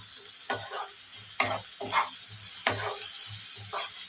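Spices, including dried chilli powder and asafoetida, fry in a pan for aloo paratha, giving a constant sizzle under repeated spatula scrapes and stirs in an uneven rhythm, close and fairly loud.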